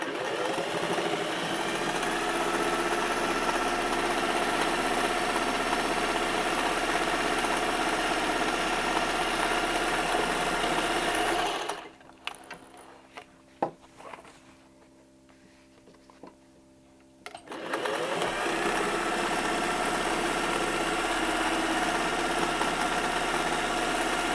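A sewing machine stitches straps for a denim tote bag, running as a loud, steady mechanical whir. It stops for about six seconds in the middle, with a few small clicks, and then starts up again.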